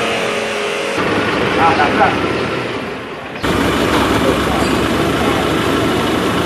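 A Nissan Navara pickup's diesel engine, recently repaired for black smoke and sluggish pulling, runs with a loud, rough, continuous clatter close by, briefly dipping before rising again, while people talk over it.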